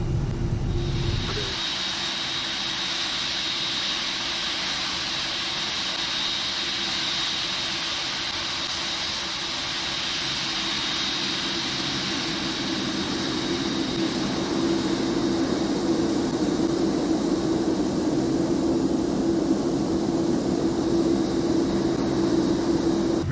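Boeing 747 jet engines in the X-Plane 11 flight simulator hum steadily while the airliner taxis toward runway 25 right at Los Angeles, a continuous whining drone with a low rumble, alone and unbroken throughout.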